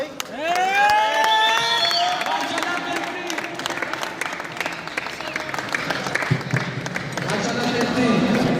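An audience breaks into sustained applause at a show welcoming a guest chef, a dense wash of clapping with scattered cheers and whistles. Someone talks in the background.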